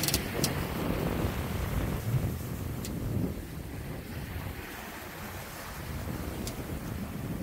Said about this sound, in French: Et il y a de la houle quand même.